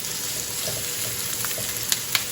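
Chopped tomatoes and onions sautéing in a hot pot, a steady close sizzle with a couple of small pops near the end and no talking.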